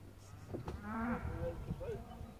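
Cattle moo loudly and close by as the herd goes out to pasture for the first time after winter penning; one long drawn-out moo stands out, with other calls and farm noise around it.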